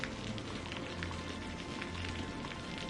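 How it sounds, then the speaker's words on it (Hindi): Steady, fairly faint rain falls with a continuous soft patter of drops on a surface and no voices. "अरे शिवा, बारिश में तो काम रुक ही गया ना।"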